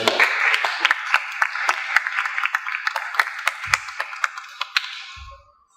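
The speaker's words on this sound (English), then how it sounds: "So a round of applause, please, for Mariam." A conference audience applauds a speaker, a close crowd of sharp overlapping claps with a few louder individual claps, fading out near the end.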